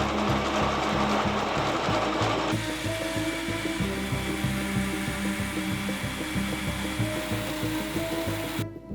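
A drill bit grinding steadily through steel, loud and continuous, with a rhythmic churning pulse and a harsher high-pitched whine in the first few seconds.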